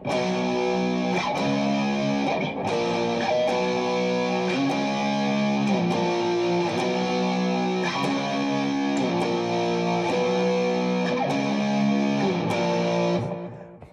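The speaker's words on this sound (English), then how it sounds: "Or you can put on a little bit of distortion." A distorted electric guitar plays a repeating riff from a song, chords and bending notes, gritty and sustained, steady throughout with no voices.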